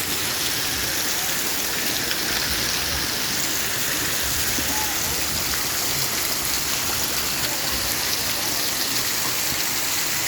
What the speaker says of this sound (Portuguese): chuva mesmo, chuva aqui já tem mais ou menos quase uma meia hora de chuva de água